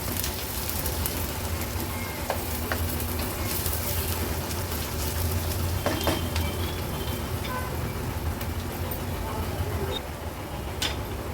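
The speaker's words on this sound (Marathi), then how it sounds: "कांदा आता व्यवस्थित आपण मीडियम फ्लेमवर शिजवून घेऊया" Onion with ginger-garlic paste frying in a pan over a medium flame gives a steady close sizzle with scattered small crackles and pops throughout, and no voices.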